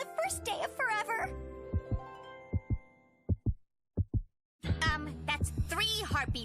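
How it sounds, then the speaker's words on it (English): Cartoon heartbeat effect: three pairs of clean thumping beats in the middle of the clip, the last pair set against silence, with a child-like cartoon voice talking before and after. "Now to hear our two beating hearts on the first day of forever."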